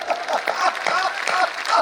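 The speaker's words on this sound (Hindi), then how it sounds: "तालियां एक बार ऐसे मन के साथ दो" A comedy poetry gathering's audience claps in a short, loud patter of mixed applause, with some laughter in the crowd.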